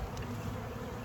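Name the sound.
honey bees buzzing during package bee install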